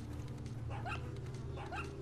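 A dog in the video game Resident Evil 4 gives two short yelping barks, fairly faint, over a steady hum of game background sound.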